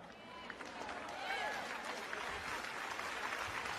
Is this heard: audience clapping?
yes